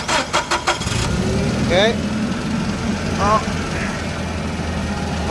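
A Komatsu forklift engine cranks over in a short burst of rapid, rhythmic turns, then catches and settles into a steady, loud low idle that runs on. A person speaks briefly at the start.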